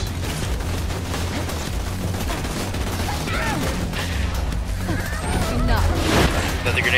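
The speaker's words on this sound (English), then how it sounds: "Another grenade's up. Oh my god. That grenade is beautiful. Dude, this is like a freaking carpet bomb, man." Rapid grenade blasts from the video game Borderlands 2 pile up like a carpet bombing, a dense, loud barrage of booms and crashes that swells toward the end while someone talks excitedly over it.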